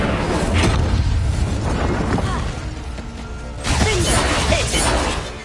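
Confringo blasting spell in Hogwarts Legacy, loud booming, crashing bursts with whooshes and debris, a dense blast early, a second surge of impacts after a lull, with game voices mixed in.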